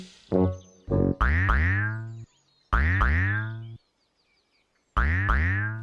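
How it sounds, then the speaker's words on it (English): Cartoonish boing sounds for a bouncing ball in a Teletubbies episode, springy pitch-bending twangs coming in quick clusters of two or three with pauses between, loud and alone. "What a funny bouncy sound."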